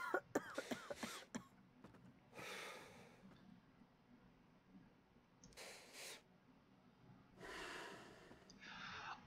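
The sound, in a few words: a man coughing and clearing his throat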